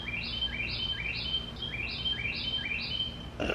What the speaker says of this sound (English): are the birds gonna be doing that this whole time?